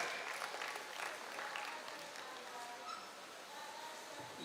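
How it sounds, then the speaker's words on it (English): An audience at a Nigerian publishing event claps for a keynote speaker, producing steady, even applause from a sizeable crowd that sounds somewhat distant and fairly quiet. "Thank you for clapping again for our keynote speaker"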